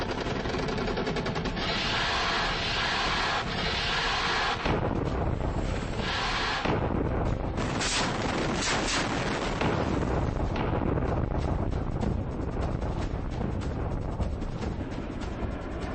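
Film war scene of an aircraft attacking a target, with sustained loud gunfire and heavy explosions rumbling continuously throughout, dense and close with no talk.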